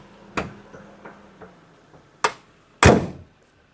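Car boot being opened: a handful of sharp, separate thunks and clicks, the last two loudest, close by in an otherwise quiet outdoor setting.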